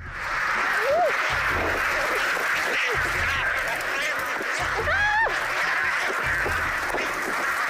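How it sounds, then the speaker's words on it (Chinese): Thousands of ducks at a duck farm raised for starfruit duck keep up a dense, continuous chorus of overlapping quacks, with a few louder calls rising above the flock and human voices mixed into the noise. "成千上万只鸭，看到没有？"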